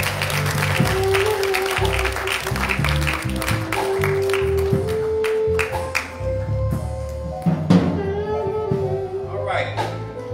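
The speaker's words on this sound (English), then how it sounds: "Give God a hand clap of praise." A church congregation claps in praise, a sustained round of many hands clapping under organ or keyboard chords, with voices calling out over the music.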